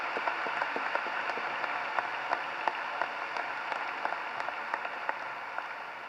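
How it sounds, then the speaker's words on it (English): A high school graduation audience applauds in a large venue: dense, steady clapping from a big crowd, moderately distant and even throughout, with occasional louder individual claps. "Join me in giving these 2 adults and Dr. Mansiri a round of applause"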